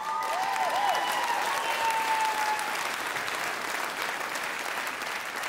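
An audience at a stand-up comedy show bursts into sustained loud applause with a few whistles near the beginning, the clapping holding steady before easing slightly toward the end.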